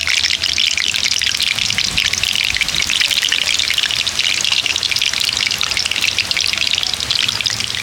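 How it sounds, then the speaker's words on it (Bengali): Palm pitha fry in hot oil outdoors on a rainy day while rainwater drips from a tree into the oil, giving a loud, dense, continuous crackling spatter up close, with no voices. "একটু বৃষ্টি জল আর কি গাছে যে লেগে রয়েছে, তো এসে একটু তেলের মধ্যে পড়তে, তাই আওয়াজটা হচ্ছে"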